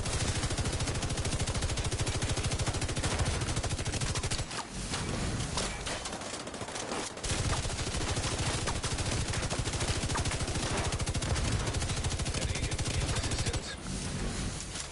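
Sustained rapid gunfire in a Division 2 PvP firefight, loud and dense across the whole stretch with brief lulls, continuous bursts layered with game effects.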